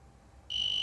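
A homemade broken-cable detector starts to beep, a sudden steady high-pitched electronic tone that begins after a moment of quiet and holds without a break.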